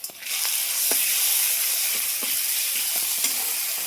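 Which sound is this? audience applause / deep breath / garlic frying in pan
garlic frying in pan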